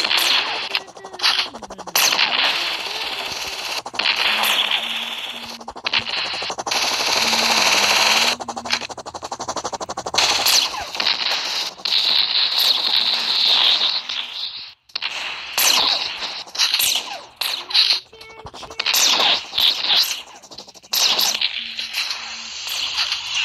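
Video game gunfire in Chicken Gun: rapid bursts of sharp shots and whip-like cracks come in irregular volleys, loud and close, with intermittent game sounds between them and no talk.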